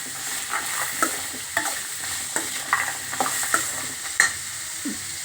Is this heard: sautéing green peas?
yes